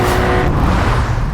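A 2025 Porsche 911 accelerates hard off a race start, its engine a loud, steady close roar with no break across the short burst.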